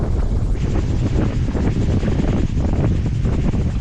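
Strong wind gusts on a sailboat anchored off an island, battering the microphone with a rumbling, buffeting roar. The blustery noise is loud and continuous throughout, with no talk.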